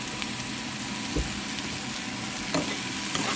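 Mushrooms browning in a little olive oil in a pan over low heat give a steady close hiss of sizzling, with a couple of brief clinks and stirring sounds and no talking.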